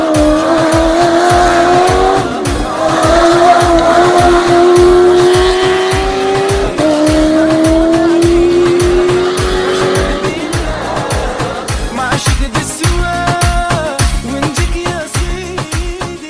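Dakar rally race cars roar with loud, sustained engine revs, pitch rising and falling through gear changes. The drone holds steady and strong, then shifts to a choppier, revving passage near the end.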